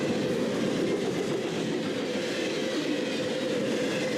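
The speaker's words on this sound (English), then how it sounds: "It's a Herzog ballast train." A Herzog ballast train rumbles past in the distance with a steady broadband roar of wheels on rail, constant and moderately loud throughout, with no voices over it.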